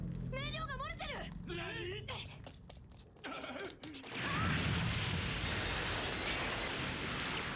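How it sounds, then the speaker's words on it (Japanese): A helicopter explodes in a Detective Conan anime movie after leaking fuel, a loud broadband blast that swells into a sustained rumbling roar, following a stretch of anime dialogue and music. "爆発しちゃった。"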